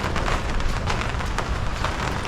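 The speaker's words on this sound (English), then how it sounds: "So it just started raining." Rain has just begun falling on a greenhouse vegetable garden, a steady, dense hiss of drops pattering on surfaces with no voices.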